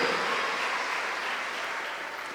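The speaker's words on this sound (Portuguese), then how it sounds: "Dê uma salva de palmas ao Senhor." A church congregation claps together in a steady, broad wash of applause during a worship service, fairly distant and even, with no voices standing out.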